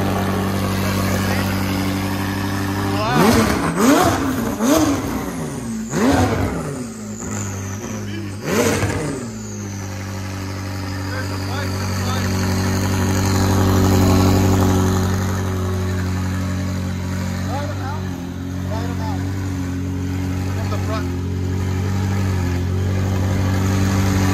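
A 2017 McLaren 570S 3.8L twin-turbo V8 with a custom straight-pipe exhaust revs hard several times in quick succession, each rev rising and falling, then settles into a steady, rumbling idle that continues to the end.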